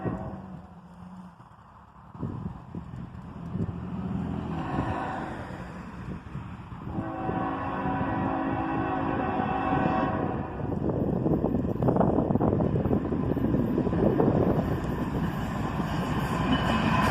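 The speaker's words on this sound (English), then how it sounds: "An ES44 ACH and an ES40 DC lead this manifest train southbound" A southbound CSX/Norfolk Southern manifest train led by an ES44AC and an ES40DC locomotive rumbles past, growing from a distant approach to a loud, sustained roar of engines and rolling wagons, with horn tones mixed in.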